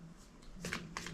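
Cards being shuffled and drawn during a card reading, with a couple of short riffling bursts close by in a quiet room, no talking.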